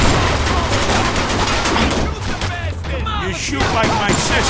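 A Mafia 2 shootout: dense bursts of gunfire go on throughout, loud and continuous, with a voice shouting over the shots.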